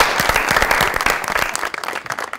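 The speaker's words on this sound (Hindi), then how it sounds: "बहुत सारी तालियां" Audience applause on a talk show as a guest is welcomed, loud and close, with distinct individual claps in a brisk stream that thins out toward the end.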